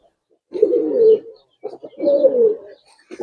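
Two drawn-out, rolling coos from a large Giribaz pigeon pair sound close and clear, each about a second long, with brief pauses and a new coo beginning at the end.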